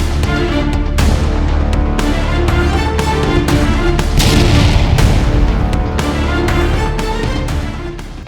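Machine gun and automatic grenade launcher fire from armored vehicles in a combat assault near Zaporizhia, loud rapid bursts and booms in quick irregular succession, dense and continuous over several seconds, with no voices.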